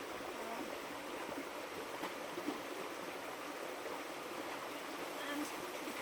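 A garden shower system spraying water to wash soil off, giving a steady, broad hiss of running water that continues evenly throughout with no speech.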